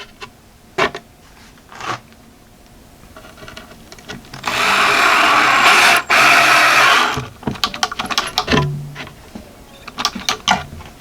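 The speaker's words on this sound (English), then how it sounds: "I just take a screw and run it in from the bottom." A power drill drives a screw from below into the wood of a DIY fishing and hunting work and storage center, whirring loudly for about three seconds amid scattered knocks and clatter of handling.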